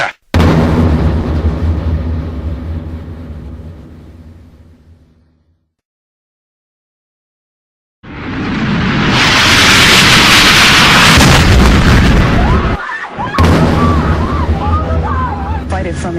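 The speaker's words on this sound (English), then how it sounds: "you can see that we've just had another explosion" An explosion at the World Trade Center: a heavy boom rings out and fades into silence, then a second loud, noisy blast of roaring rumble bursts in, with voices heard near the end.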